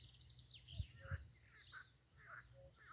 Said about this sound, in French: écoutez ces bruits d'oiseaux, de grenouilles